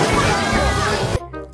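Water splashing over a group of students in a classroom, a loud, broad sloshing burst that cuts off abruptly, leaving a faint tail.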